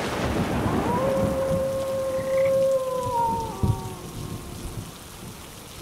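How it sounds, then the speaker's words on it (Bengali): Heavy rain pours down in a steady, dense hiss, with a low tonal drone and a faint distant rumble passing through, and no voices heard. "এই বৃষ্টি কি আর থামবে না?"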